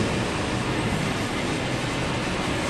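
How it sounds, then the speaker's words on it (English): A new Waratah Series 2 train, set B2, pulls into platform 23 on a Campbelltown service via the airport line, giving a steady, close, loud rumble of wheels and traction that fills the whole stretch. "New Waratah approaches platform number 23, the Campbelltown service by the airport line."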